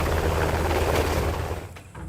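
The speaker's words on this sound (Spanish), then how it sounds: "Lake, sube al helicóptero." A helicopter drones with a loud, steady rotor and engine roar that fades slightly near the end, part of an animated camp story.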